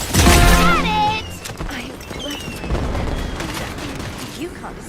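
Gunfire in the video game Stirnova: a dense, loud volley of shots at the start fading into a steady clatter of continued firing and rumbling impacts, mixed with game sound effects and no talking.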